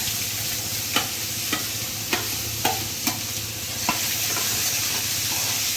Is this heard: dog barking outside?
no